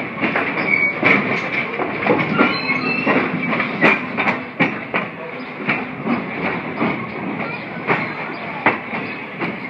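A train pulls into East Strasburg Station in Strasburg, PA, its steady rolling rumble broken by sharp clanks from the rail joints and faint wheel squeals, heard up close.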